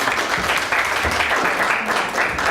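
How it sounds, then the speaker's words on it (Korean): Steady, dense applause from an audience at a startup competition final after a pitch presentation, a continuous wash of clapping at even loudness throughout. "예, 박수를 부탁드리겠습니다."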